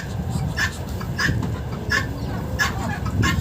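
Domestic ducks in a farmyard as a drake chases a duck, short quacking calls repeating at a steady rhythm about every half second over a low rumbling background.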